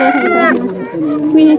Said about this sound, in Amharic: 14 ዶሮ አምጥላለች። ዶሮ